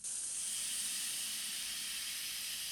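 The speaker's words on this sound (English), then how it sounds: "This energy is used to heat water, producing steam." Steady, loud hiss of steam from water heated in a nuclear reactor, a continuous broadband rush that holds unbroken from start to finish with no voices.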